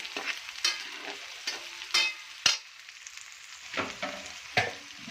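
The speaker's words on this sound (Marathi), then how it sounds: "आता यामध्ये आपण बारीक चिरला कांदा ॲड करूया साधारणतः हा एक किलो कांदा आहे व्यवस्थित परतून घेऊया" About a kilo of finely chopped onions sautéing in a pan for a potato dish, soft sizzling broken by a series of sharp stirring scrapes and clinks at irregular intervals, close, with no talking.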